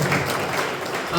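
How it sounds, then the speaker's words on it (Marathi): A worshipping congregation at a church healing service claps in a brief, dense burst while a voice carries on over the applause. "पण टाळ्या वाजवत"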